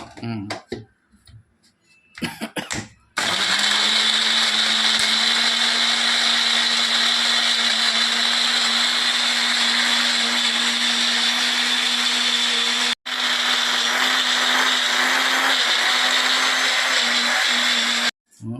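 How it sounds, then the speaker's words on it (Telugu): A kitchen mixer grinder grinding ginger-garlic masala for village-style mutton curry, a loud steady high whine running about fifteen seconds with one brief stop, after a few short clatters at the start. "మిక్సీలో వేసేసాను కదా, మసాలా పట్టేస్తాను."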